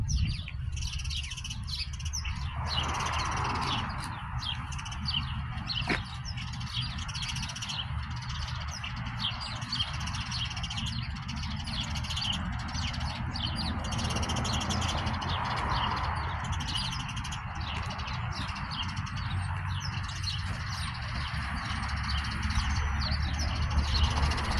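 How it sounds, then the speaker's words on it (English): Many birds chirp and call from a tree outdoors, a dense continuous chatter of small calls at moderate distance over steady background noise, with no talking. "Let's go over here to the tree where all the birds are."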